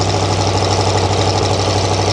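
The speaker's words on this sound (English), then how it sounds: "It fires right up now and it's idling high, but it's idling." An old Ford engine that sat for years on a farm idles high just after starting, a steady loud close-up rumble with a faint uneven knock and vibration running unbroken throughout.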